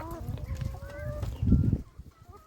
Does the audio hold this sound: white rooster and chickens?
yes